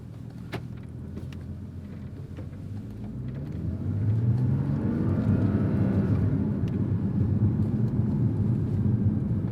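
Porsche Cayman sports car driven in Sport Plus mode with traction control off, engine drone building into a louder, rising rumble as it accelerates, heard from inside the cabin without talking.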